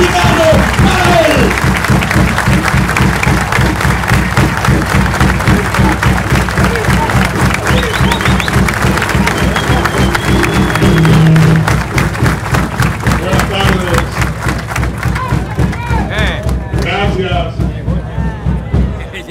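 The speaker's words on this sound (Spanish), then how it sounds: "vamos a tributar el aplauso más encendido que tenga el pueblo dominicano para él" A large audience gives a governor a long, dense round of applause at a meeting with merchants and the chamber of commerce, loud and sustained, with crowd murmur underneath and the clapping thinning slightly toward the end.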